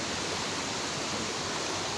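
A natural, bridgeless river crossing near a waterfall in Puraseda, Bogor, rushing water as an even, loud, broadband roar with no voices.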